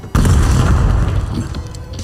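A frag grenade going off in a video game: a sudden, loud, deep boom followed by a rumbling tail that slowly fades.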